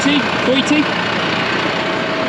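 Coyote HX120 tractor engine idling with a steady low rumble close by, a voice speaking over it.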